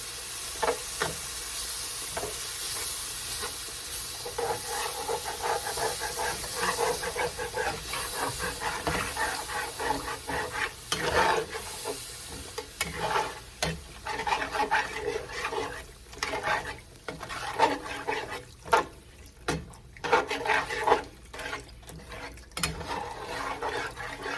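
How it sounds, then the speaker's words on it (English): Beef broth poured into a hot pan for Salisbury steak mushroom gravy hisses and sizzles steadily while a utensil stirs and scrapes the bottom, with clearer scraping strokes and bubbling bursts toward the end. "now we just want to start adding our beef broth"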